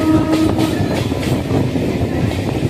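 A Budge Budge local train runs steadily on the tracks near Tollygunge in Kolkata, a close continuous rumble with faint rhythmic clatter of the wheels.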